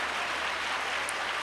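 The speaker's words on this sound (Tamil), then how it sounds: "கர்த்தரை கையை தட்டி துதியுங்கள்." A church congregation claps hands in praise during a Tamil Christian sermon, a steady, fairly faint wash of clapping with no clear talk over it.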